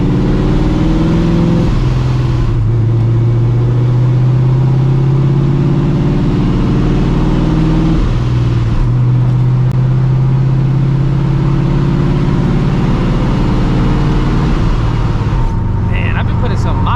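A cammed, supercharged 600-horsepower 1999 Ford Mustang GT V8 drones loudly from inside the car while driving at night, a deep steady engine hum that rises and falls with throttle, with occasional talk over it.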